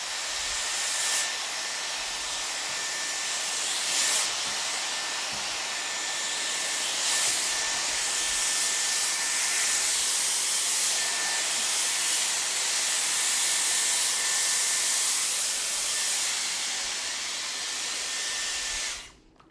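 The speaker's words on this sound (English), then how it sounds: "Let's round brush blow out the front of my hair." Dyson Airwrap with round brush attachment blowing hair dry, a steady, loud whooshing hiss of airflow running nearly the whole time with a faint high whine, then cutting off at the end.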